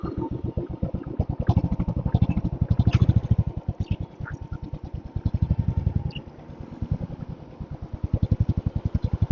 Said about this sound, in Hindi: ये ले भाई बाइक भी मिसफायर कर रही है ले